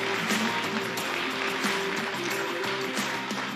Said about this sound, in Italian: facciamo un applauso a questo nostro portiere